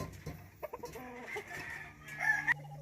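A large chicken on Kauai island crows and clucks nearby, a drawn-out rooster call rising at the end over soft outdoor background.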